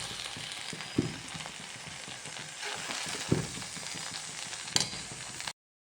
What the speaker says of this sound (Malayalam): ഇളക്കി മിക്സാക്കി കൊടുക്കാം